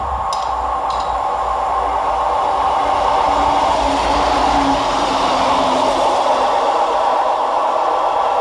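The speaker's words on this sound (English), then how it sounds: "Running 52 minutes late for Transport for Wales is 158822, working 1 Indigo 10 from Shrewsbury to Birmingham International" A Transport for Wales class 158 diesel train, 158822, passes through Smethwick Rolfe Street station with a steady loud rumble and rhythmic wheel clatter, a continuous near pass with no talk.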